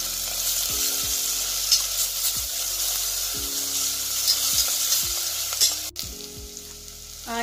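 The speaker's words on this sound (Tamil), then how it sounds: "இப்போ இஞ்சி பூண்டு பேஸ்ட் போட்டுக்கலாம்." Ginger garlic paste fries for a mutton curry, crackling and sizzling steadily with repeated spoon scrapes and stirring knocks against the pan, close and with no talk.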